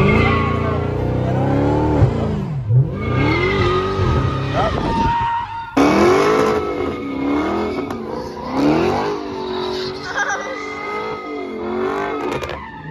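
A Dodge Hellcat sliding in a wide open lot, its tires squealing loudly in long, wavering howls while the engine revs rise and fall, with brief voices mixed in.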